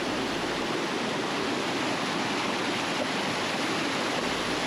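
Fast water rushes over rocks in a river along a remote Papua New Guinea trek, a loud, steady, unbroken roar that fills the whole stretch with no voices.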